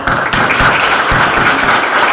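A room of guests at a workforce development breakfast applauds, a loud, dense, continuous clapping from nearby with no speech over it.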